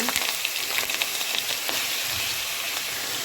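Capsicum and potato fry in oil with peanuts, a green chilli and cardamom in a pan. A close, continuous sizzle runs throughout, with scattered pops and clicks early on.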